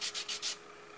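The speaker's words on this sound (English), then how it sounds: "I think I'll take and put a couple strokes of the sanding block on that one too." A sanding block rubs over a wooden part during a woodworking build, making four quick, close scratchy strokes in an even back-and-forth rhythm before falling quiet, faint overall and with no voices.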